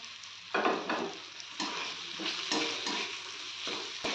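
Prawns stirred with spice masala and tomato in a hot pan make a steady sizzle, broken by bursts of spoon scraping and stirring at regular intervals.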